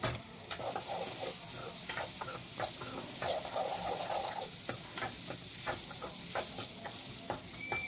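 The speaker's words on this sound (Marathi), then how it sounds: "या कांद्यांना सुद्धा छान असं परतून घ्यायचं आहे आणि हे कांदे शिजू द्यायचे आहेत" Chopped onions sauté in a pan for yogurt-based okra curry, giving a steady soft sizzle broken by repeated light scrapes and taps of a spoon stirring, close and alone without talk.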